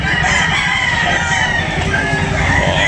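Backyard roosters crow loudly and close by at a poultry market, their drawn-out calls overlapping amid busy background noise.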